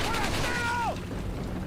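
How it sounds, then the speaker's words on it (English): Warning gunshots fired in Resident Evil 4 Wii Edition come as a loud burst of gunfire and clatter at the very start, then quickly die down. "Just shoot off some warning shots"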